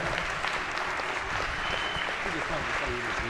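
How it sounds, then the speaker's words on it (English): Sustained applause from a crowd in the US House chamber during a floor session, a dense steady patter of many hands clapping throughout, fairly loud, with a faint murmur of voices underneath. "Can we give them a round of applause?"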